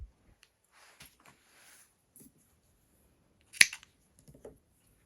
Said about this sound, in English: All right, so I'm going to snip.